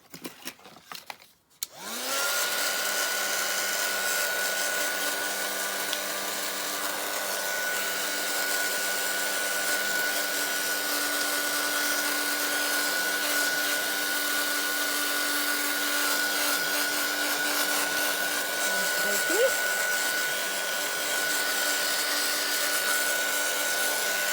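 A hair dryer blows steadily and loudly at close range over freshly painted junk journal pages, starting after a brief handling noise and running continuously with a faint whine on top.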